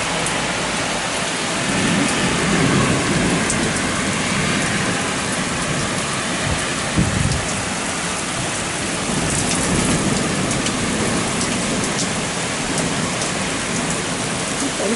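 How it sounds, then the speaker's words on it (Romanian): Heavy rain falling steadily and densely during a hike in Luxembourg, a loud, continuous hiss of drops hitting surfaces, with a low rumble like distant thunder partway through and no voices. "a venit ploaia"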